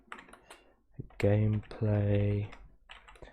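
Keys on a computer keyboard click rapidly during gaming, with soft tapping at first, then a loud sustained tonal sound that breaks off and returns before the tapping resumes. A voice is heard faintly.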